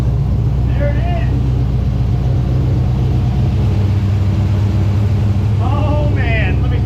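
A vehicle engine that has just started, running at a steady loud rumble throughout with low harmonic bands, while several people talk and cheer over it.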